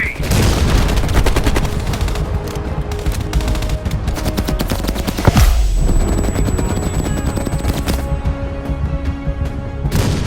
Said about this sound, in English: Mel, you're gonna have to flank that MG.